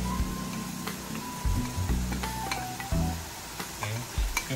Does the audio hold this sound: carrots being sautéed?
yes